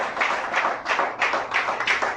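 Worshippers in a church clap in a steady, even rhythm, about two beats each second, the claps loud, close and full, with no one speaking over them.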